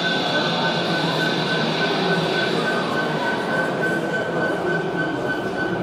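An MTH SD70ACe gauge 1 model diesel locomotive with a Protosound 3 sound decoder runs at a model railway meet in Munich. Its engine drone and hum play continuously and fairly loud, with a steady whine layered on top.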